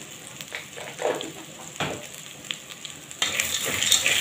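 Vegetables with black pepper and salt are stirred together in a hot pan, sizzling softly with scattered scraping strokes that grow busier toward the end, no voices.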